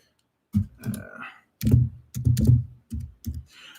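Fingers tap out short bursts on a computer keyboard up close, with clustered clicks separated by brief pauses in an otherwise quiet room.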